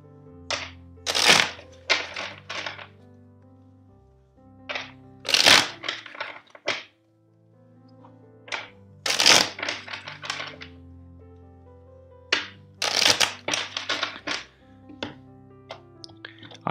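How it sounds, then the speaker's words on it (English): A tarot card deck is shuffled four times, each round a crisp riffle of rapid card flicks and snaps ending in a tap, with quiet gaps between rounds. "First, let's shuffle the deck four times."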